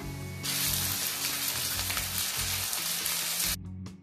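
Ginger-garlic paste hits hot oil in a pan with lightly fried onion, bursting into a loud, steady sizzle that holds for several seconds before cutting off abruptly.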